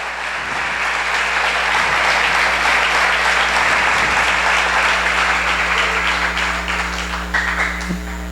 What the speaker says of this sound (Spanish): yo quiero que los recibamos con un fuerte aplauso